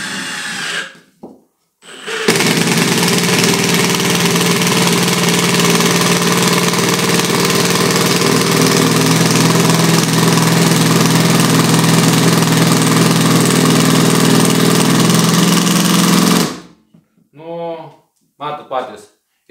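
A Milwaukee M18 FID3 cordless impact driver in its first mode drives a 100 mm by 6 mm screw with a loud, continuous rattling whir lasting about fourteen seconds. Brief talk comes before and after.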